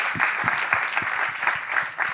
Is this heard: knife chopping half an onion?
no